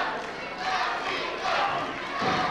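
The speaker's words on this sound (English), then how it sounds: "You can hear the crowd chanting for the Z-Man." Wrestling arena crowd at a live match, a broad sustained roar of many voices rising and falling in waves, loud and continuous, with the chant blurred into general cheering.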